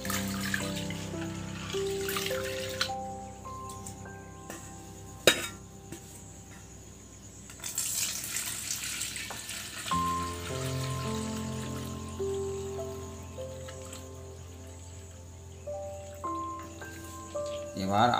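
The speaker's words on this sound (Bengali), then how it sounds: "এখন বন্ধু আমি একবার এই জলটা ফেলে দেবো, দিয়ে আবার জল দেবো" Water pours and splashes over chana dal in a bowl as it is washed, a trickling, sloshing stream in bursts with a pause between, under faint background sounds.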